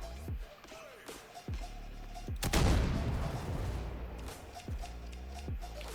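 Gunfire in the Roblox shooter Counter Blox: a string of sharp, evenly spaced gunshots followed by a heavier blast with a decaying rumble, then more single shots spaced about a second apart.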